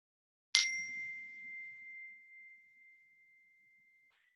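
A meditation bell struck once at the close of a breathing practice, a clear bright ding that rings out and slowly decays over several seconds in a quiet room, with a faint soft touch near the end.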